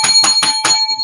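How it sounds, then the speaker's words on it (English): A hotel desk bell is struck four times in quick, even succession, each ring bright and metallic with a lingering tone, followed by a faint softer tap at the end. "That's my lovely hotel bell."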